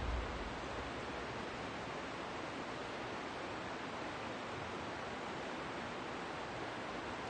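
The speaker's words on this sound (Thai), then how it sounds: "เสียงน้ำตก" Steady broadband rushing of a waterfall near Marysville, Victoria, heard as a constant even roar with no breaks or voices.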